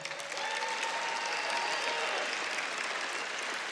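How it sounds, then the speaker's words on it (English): Studio audience at a late-night comedy show clapping, a steady, fairly distant wash of applause with no talk over it. "they're clapping for that"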